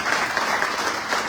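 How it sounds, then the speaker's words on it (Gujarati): An audience at a business seminar claps together in a brief, dense burst of applause that stays loud and even throughout. "જરા તાળીઓના ગણગણથી બધા વિનંતી."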